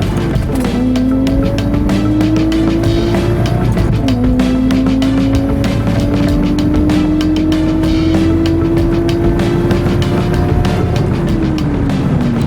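Toyota Chaser with an exhaust and front-mount intercooler on a drag run at Santa Pod, engine roaring loud and close for the whole stretch, revs climbing steadily through gears with a sharp shift break and another near the end.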